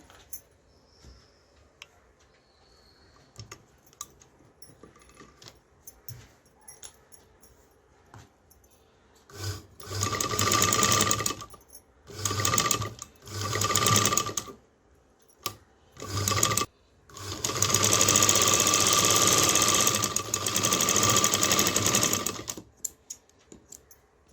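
A sewing machine stitching lace onto a blouse runs in several separate bursts of a few seconds each, with a longer continuous run near the end and quiet handling sounds in the gaps. Nobody speaks.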